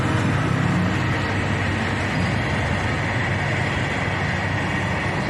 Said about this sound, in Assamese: এইফালে চাওক, ট্ৰেইন আহি আছে।